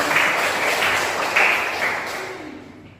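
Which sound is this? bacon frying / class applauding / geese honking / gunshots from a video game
class applauding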